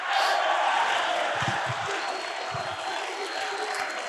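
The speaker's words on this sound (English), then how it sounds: "Give Grant a round of applause." Audience applause for a volunteer at a men's session of a Steubenville youth conference, a steady broadband wash of many hands clapping at full level throughout, with a few low thuds and murmurs underneath.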